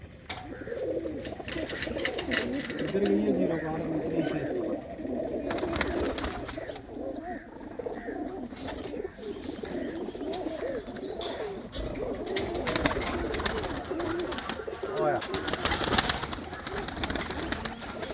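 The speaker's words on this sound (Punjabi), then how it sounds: "ਕਾਲੀਆਂ ਅੱਖਾਂ ਦੀ ਕਬੂਤਰੀ ਆ" Pigeons, including a black-eyed female, coo softly and continuously in a dense, murmuring chorus close by, with a brief spoken remark and some outdoor background noise.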